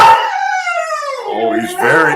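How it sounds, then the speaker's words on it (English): Excited dog howling and yelping at something outside, a loud, close, drawn-out wavering howl that breaks into a couple of shorter rising yips, with no talk over it. "That's my dog."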